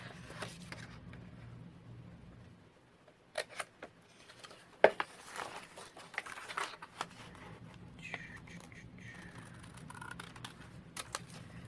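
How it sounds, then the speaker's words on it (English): Scissors make several quiet, separate snips and crinkles while cutting out a small New York paper tag label for a decorated pocket book page. The cuts are spaced across a hushed background, with a few faint rustles. "let's cut out our little New York tag label"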